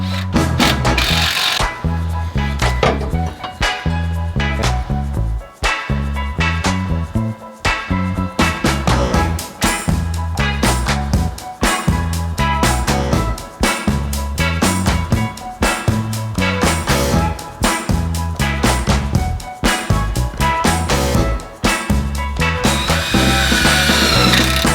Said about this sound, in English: get a 1/2 inch wrench and tighten this down